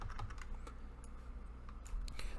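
Quick bursts of typing on a computer keyboard while entering a console command, clustered keystrokes near and fairly soft, with a short pause before a final flurry.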